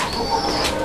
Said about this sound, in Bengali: এইটা শার্টিং কবুতর, একটা জোড়া ব্ল্যাকলেস শার্টিং।